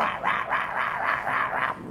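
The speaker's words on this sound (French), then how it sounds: "c'est un enregistrement du cagou mâle qui aboie pour faire venir une femelle" A male kagu's barking call, played from a recording through loudspeakers in a forest, comes as a steady run of about seven hoarse, rhythmic barks, close and fairly loud.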